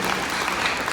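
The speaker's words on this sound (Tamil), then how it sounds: "நீங்கள் கைத்தட்டியது சொக்கலிங்க பேச்சுக்கா உங்கள் உடல் நலத்திற்காகவா?" A seated audience at a Tamil talk claps hard and steadily, dense applause filling the whole moment without a break and with no voices over it.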